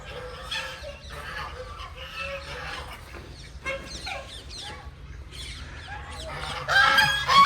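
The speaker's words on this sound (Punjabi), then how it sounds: "ਮੁਰਗਾ ਆਪਣਾ ਬਹੁਤ ਵੱਡਾ ਹੋ ਗਿਆ" Chickens cluck and chatter continuously nearby on a farm, and a large rooster crows loudly toward the end.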